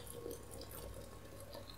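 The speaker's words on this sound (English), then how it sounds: "So I'll pour the boiling water" Boiling water pours over tea bags in a cup, a soft, steady liquid trickle with faint splashing, quiet and continuous for a couple of seconds.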